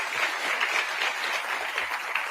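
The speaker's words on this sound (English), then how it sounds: "Give yourselves a round of applause." Sustained applause from a crowd at a sold-out public policy forum, dense, even clapping filling the room for a couple of seconds with no voices over it.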